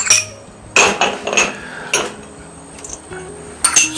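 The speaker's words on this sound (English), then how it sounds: "I'm just going to dump all these ingredients right in here on top of our fish" Chopped shallot, celery and jalapeno tip into a bowl onto smoked jack crevalle for tuna-style salad, giving four sharp clinks and thuds spaced over a few seconds against a quiet background.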